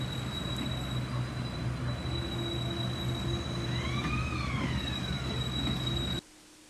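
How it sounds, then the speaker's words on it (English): A steady high tone from a nearby train horn sounds over rumbling engine noise as the train starts up at a level crossing in Muizenberg, with a wavering siren-like pitch rising and falling before it cuts off. "the trains start up and hoot to warn people crossing the tracks"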